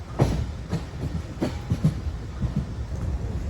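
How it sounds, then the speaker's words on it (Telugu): An intercity train running between Ernakulam and Trivandrum rolls along with rhythmic clickety-clack wheel beats over rail joints. The rumble is steady and moderately close, and no voices are heard. "అది ఎర్నాకుళం త్రివేంద్రం మధ్యలో తిరిగే ట్రైన్"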